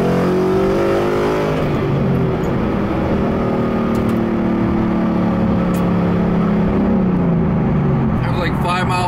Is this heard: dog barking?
no